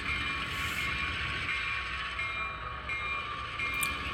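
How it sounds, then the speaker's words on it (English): A switching train moving forward with two empty and two loaded cars rumbles along steadily with a continuous mechanical drone and faint rattling of rail cars, fairly even in loudness throughout. "We see the train moving forward with two empties and the two loaded cars"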